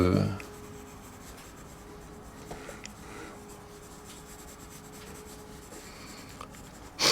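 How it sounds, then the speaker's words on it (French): Pencil sketching foliage on paper for a mixed-media drawing, a soft, steady scratching and rubbing that runs quietly throughout, with brief louder handling noises at the start and end. "Vous voyez comment je dessine les feuillages."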